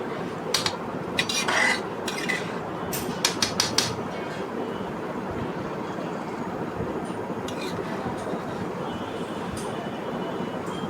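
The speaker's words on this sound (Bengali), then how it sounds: "এরপরে নাড়া দিয়ে দিচ্ছি।" Egg and potato being stirred into biryani in a pot: a steady scraping, rustling texture throughout, with a few sharper utensil clinks against the pot early on, fairly close and moderate in level, no talking.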